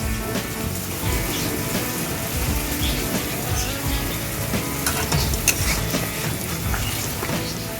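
Egg curry with coconut milk simmers in a pan, giving a dense, steady bubbling sizzle that stays loud and close throughout with occasional stirring noises.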